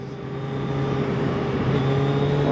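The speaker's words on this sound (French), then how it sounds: "Alors cette moto, pour offrir cette sensation" A 2021 Suzuki Hayabusa sport motorcycle engine revs up continuously, its pitch climbing steadily as it accelerates, loud and close, with no voices.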